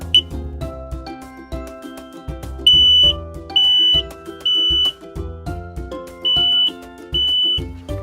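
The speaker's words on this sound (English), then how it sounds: "an alarm tone of over 85 decibels will sound throughout the entire home" An X-Sense SC01 dual sensor smoke alarm gives several loud, sustained high-pitched electronic beeps in a steady rhythm, up close, over background music.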